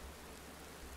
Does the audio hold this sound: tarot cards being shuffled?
no